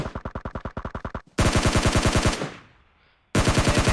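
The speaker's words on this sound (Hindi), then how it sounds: "वो रहा एक बंदा, तो मुझे वहाँ पर फायरिंग करनी चालू कर देता हूँ।" Automatic weapon fire in the video game PUBG, loud close rapid bursts with brief gaps between strings of shots, no voices.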